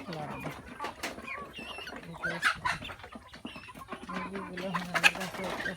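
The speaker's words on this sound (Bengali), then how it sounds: "মুরগিগুলো আমাদের কাছে উঠতেছে" Chickens cluck repeatedly at close range in a farmyard, with short bursts of clucking scattered across the clip while a person talks over them.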